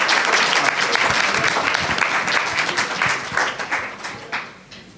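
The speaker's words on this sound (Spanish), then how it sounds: "Podemos aplaudirla." An audience applauds at an event on translators and editors: a dense, fairly loud wash of clapping from many hands that holds steady, then thins and tapers off toward the end.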